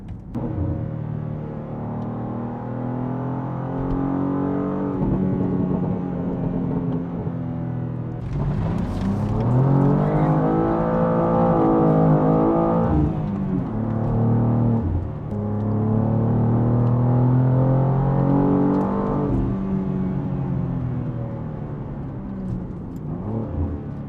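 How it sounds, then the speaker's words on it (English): A BMW M2 G87 with a full titanium Valvetronic Designs exhaust revs repeatedly, climbing and falling in pitch with a deep, smooth exhaust drone that swells loudly, then settles back. "You'll see in the Revs, this system is way quieter than the stock muffler."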